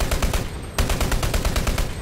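Rapid automatic fire from the Krotzny gun in the shooter Dirty Bomb, a fast, even stream of loud, close shots with a brief break partway through, with no voices.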